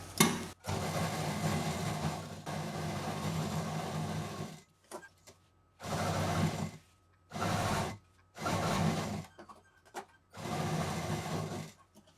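Sewing machine stitching across the handle of a handmade duffel bag, running in several loud close bursts with short pauses between, no talk.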